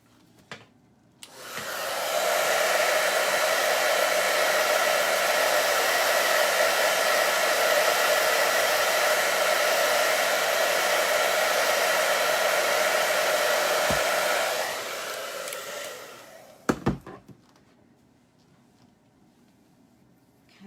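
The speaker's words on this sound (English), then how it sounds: "I'm gonna grab my hair dryer. It might be a little noisy for a minute." A hair dryer roars steadily at close range for about thirteen seconds, drying a mixed media collage cake painting, then cuts off, followed by a few brief clicks and handling knocks.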